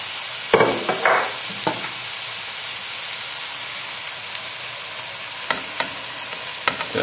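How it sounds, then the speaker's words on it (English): Onions tipped into a hot pan for French onion soup give a steady sizzle, with a few sharp clatters and stirring knocks as they land, loud and close, with no talk. "we can add in the onions and try and do this so that they all go into the pan and not all over your hob"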